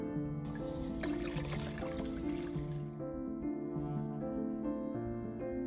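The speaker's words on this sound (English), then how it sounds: "I'm gonna go pour this in the tank." Cold water is poured into an axolotl tank, a faint, steady trickle and splash running under a tonal hum, with a brief hissy burst of liquid partway through.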